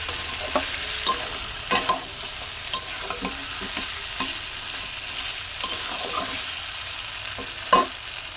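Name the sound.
chicken being stir-fried in oil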